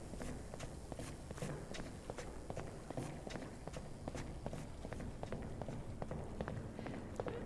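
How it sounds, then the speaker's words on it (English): Footsteps in The Stanley Parable video game demo, a steady rhythmic run of clear steps across a hard floor, close and distinct, continuing evenly throughout with no talk over them. "So there's like directional sound for the footsteps"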